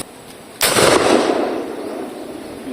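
A homemade boga, a PVC cannon, fires once outdoors with a single loud sharp blast that decays into a long rumbling tail, with no talk during the shot.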